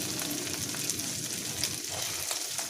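Green peas roasting in a pan for samosa filling, a faint, steady sizzle and crackle with occasional soft pops, with no voice over it.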